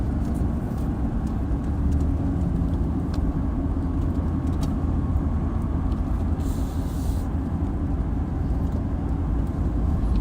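A car driving a back road near Knoxville in the Great Smoky Mountains area, with a steady, continuous road and engine rumble filling the whole clip.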